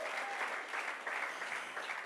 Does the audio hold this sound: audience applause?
yes